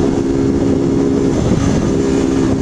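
A motorcycle engine drones steadily while riding and accelerating, a loud, close, continuous hum with strong low tones and wind rush, no voices over it.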